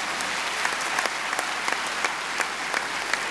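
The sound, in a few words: audience applause thanking the speakers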